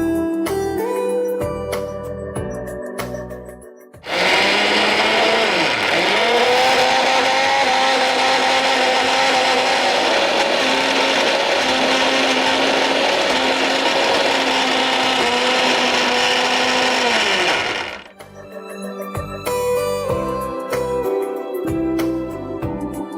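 A mixer grinder whirs loudly and steadily for about fourteen seconds, blending high-protein dosa batter, with a dip in pitch as the load shifts before it winds down to quieter kitchen sounds.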